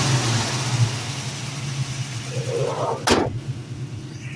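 A 1968 Plymouth Barracuda Formula S notchback with its numbers-matching 340 small-block V8 running at idle, a steady low rumble near the car, with a brief sharp click partway through.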